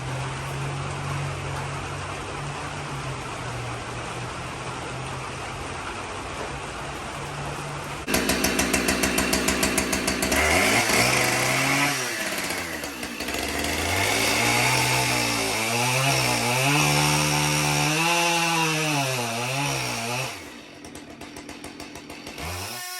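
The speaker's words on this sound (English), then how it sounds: "All we're going to do is we're going to cut with the grain of the wood, and it's going to send out these strips." Chainsaw cutting wood along the grain into strips for animal bedding, engine idling steadily before revving hard into a loud, fluctuating cutting whine for about twelve seconds, then dropping back to idle.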